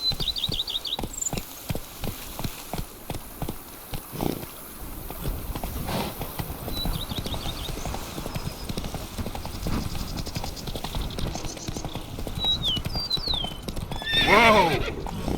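Roach the horse in The Witcher 3, hooves clip-clopping in a fast, steady gallop, close up, with whinnies and neighs, birdsong in the background, and a loud neigh near the end.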